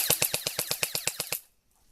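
A rapid string of about a dozen sharp gun bursts fires in steady rhythm, loud and close, then cuts off into silence.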